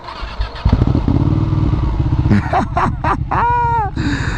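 Newly built Ducati Panigale motorcycle engine starting up, firing into a loud, close, rapid idle that settles into a steady throb, with a few short throttle blips near the end.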